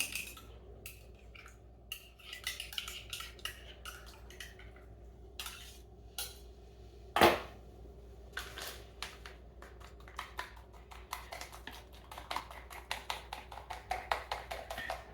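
A knife chopping food on a board while making a cake, close but quiet, with irregular quick taps and clicks and one louder knock midway; no speech.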